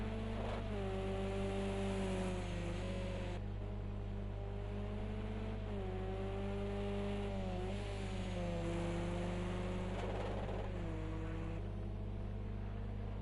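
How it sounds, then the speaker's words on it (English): An X-Series race car engine drones at high revs from a distance during a sprint race in Italy, its pitch rising and dipping as it bounces on the limiter and stutters through corners. "Just sounds like it bounces on the limiter a couple of times through the corners"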